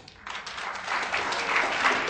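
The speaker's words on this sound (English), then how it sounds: "So I would like to welcome with a big cheer and a big round of applause," Applause rising from an audience at the Global Goans Convention in Kuwait, welcoming a speaker; brief, swelling clapping from a crowd, moderately distant.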